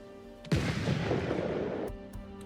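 A sticky bomb of tar and black powder explodes in the samurai video game Ghost of Tsushima, a sudden loud boom with a long rumbling roar that fades over about a second and a half.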